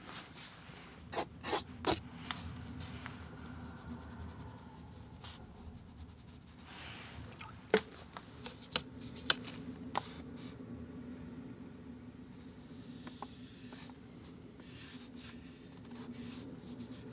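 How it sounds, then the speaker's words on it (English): A paintbrush scrubbing green and gold watercolour washes onto paper in soft, faint, intermittent scratchy strokes, with a few sharper taps and quiet room noise between them. "Scrub them on in there, leave some white bits of paper."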